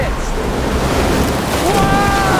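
Ocean surf breaks at a river mouth around a small boat in the jungle, a loud continuous wash of waves mixed with strong wind buffeting the mic, with no pause.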